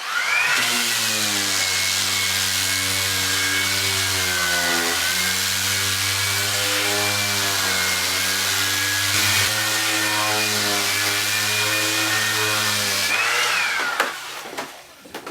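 A power sander sanding wood veneer drones loudly and steadily for about thirteen seconds, its pitch dipping slightly now and then, before winding down and stopping.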